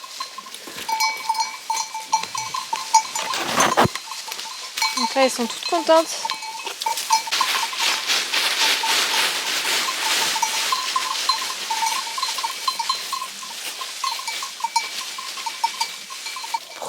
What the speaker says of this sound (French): je suis en charge d'aller faire promener les chèvres